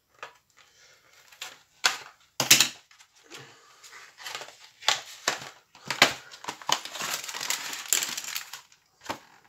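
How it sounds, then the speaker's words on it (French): Scissors snip and tear tape off a cardboard diamond painting box, giving irregular crisp cracks, crinkles and scraping bursts close by, with no speech. "je prends le ciseau pour enlever le scotch"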